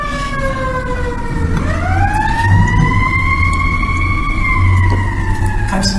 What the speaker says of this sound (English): Well, and we have a siren again.